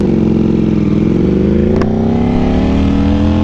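A Ducati Panigale V4 SP2 with a BT Moto Stage 2 ECU flash accelerates hard, its loud, close engine note climbing steadily in pitch without a break, with no talking.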